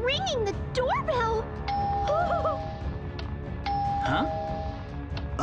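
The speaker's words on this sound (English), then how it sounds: "It's ringing the doorbell!" A two-tone doorbell in Minecraft chimes twice, bright and clear, while a person talks excitedly over it.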